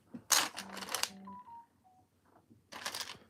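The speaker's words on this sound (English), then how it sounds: "Oh, my phone just made a notification" Phone notification chime during a Lego Disney Castle build, a few short soft electronic tones stepping between pitches, faint and brief, framed by plastic clicks and rustling handling noise.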